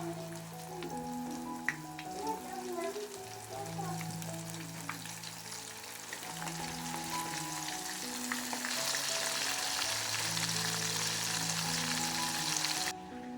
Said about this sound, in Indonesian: Dan ini minyaknya juga udah panas, jadi langsung aja aku goreng semuanya.